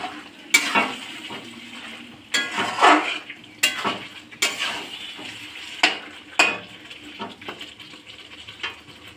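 A spoon stirs chicken curry in a pot, scraping and clinking against the metal in repeated sharp strokes over a soft, ongoing sizzle, close up with no voices.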